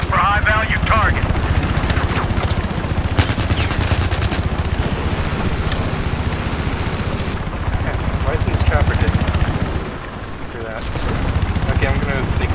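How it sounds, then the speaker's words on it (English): Helicopter spawning amid a Battlefield 4 multiplayer match, its rotor drone mixed into constant loud machine gun bursts and gunfire, with a brief lull near the end and people talking over the din. "Okay, I'm spawning the chopper."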